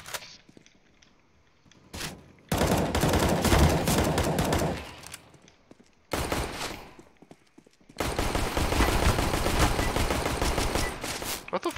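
Loud bursts of rapid automatic gunfire in CS:GO, a brief shot, then long sustained volleys separated by short quiet gaps.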